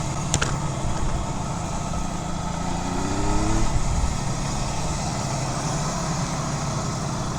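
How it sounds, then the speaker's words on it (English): A restored 1975 Kawasaki S1 250 two-stroke triple motorcycle runs nearby at a motorcycle museum, idling steadily with a brief rising rev blip midway before dropping back to idle. "Nothing like that exhaust note of a two-stroke triple."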